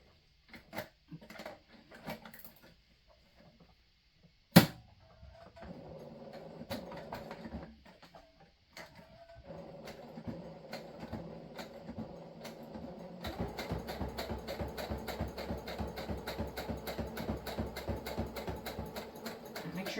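Sewing machine stitching across a fabric microwavable bowl cozy, starting with scattered clicks and short runs, then settling into a steady, continuous rapid whirring stitch that grows louder toward the end.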